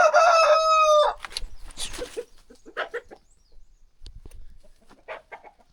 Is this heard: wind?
no